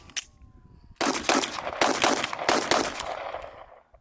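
Gunfire at an outdoor shooting range: a faint early pop, then a rapid string of loud, close shots with echoing tails fading out.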